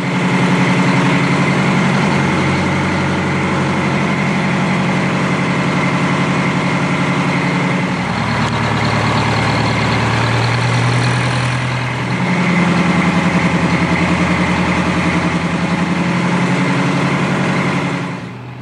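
A freshly rebuilt Detroit Diesel engine idles on its first start, a loud, steady low throb close by whose pitch and loudness shift slightly midway and then settle into an even idle.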